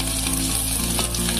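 Cinnamon pieces and two cloves hitting hot oil, a loud, steady crackling sizzle filling the short moment, close and alone.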